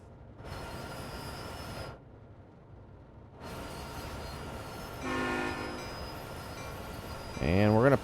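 A train in the Train Sim World video game on Sherman Hill slows to a stop at a signal: engine rumble drops out and returns, tonal whines sound midway, then a short horn blast closes it.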